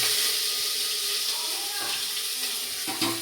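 Garlic paste hitting a hot cooking pan as greens are prepared in a home kitchen, giving a loud, steady, close sizzling hiss that fills the whole stretch with little change.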